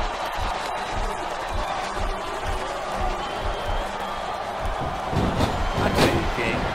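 An arena crowd chanting in WWE SmackDown vs. Raw 2007, a rhythmic repeated chant with regular beats from a large audience, swelling louder toward the end with cheering, with commentary voices over it.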